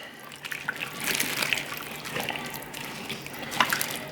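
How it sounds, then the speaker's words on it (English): Turkey gizzard and heart soup being stirred in a pot gives soft, continuous liquid sloshing and splashing with a few small clinks, fairly quiet and close, with no talking. "let me just give this a good stir"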